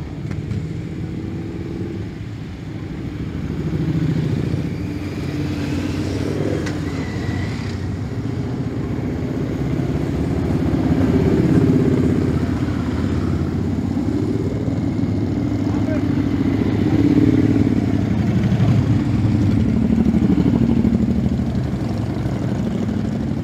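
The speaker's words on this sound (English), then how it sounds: "the day always starts with a parade of bikes coming in" A parade of motorcycles, trikes and scooters rolls in at the South Shields Armed Forces Day, giving a steady, layered engine drone that swells gradually, with voices talking over it.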